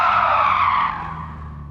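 Tires of a Porsche 911 Carrera RS (964) in Gran Turismo 7 skidding under handbrake, a loud continuous screech that fades over nearly two seconds, with no talk.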